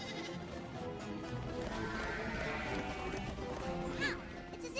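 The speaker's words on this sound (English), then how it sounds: "Ah, sheep herding." Sheep bleat while being herded in a My Little Pony cartoon, their calls faint and blended into a dense, busy background of music and ambient noise, with one brief clearer bleat near the end.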